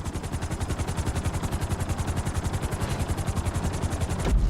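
A helicopter in GTA V sets down on a landing pad, its rotor thumping in a fast, steady pulse that stays loud and close throughout, with a brief louder burst at the very end.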